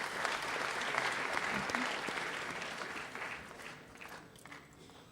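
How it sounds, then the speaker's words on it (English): Audience applause in a parliament chamber during a men's parliament gathering, a dense wash of clapping that holds strong and then gradually fades. "Can we give them a hand of applause when they're coming forward?"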